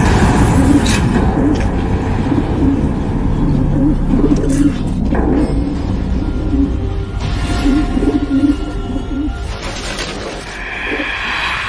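Two released birds coo repeatedly in soft, rhythmic calls throughout, close and steady over a constant background hum, with no one talking.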